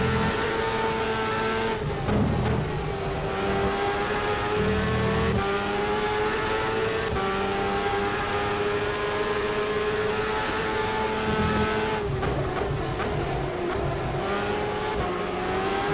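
A race car in the Superleague Formula 2009 video game laps Donington with a steady, loud engine drone whose pitch rises and falls through gear changes, with brief clicks along the way.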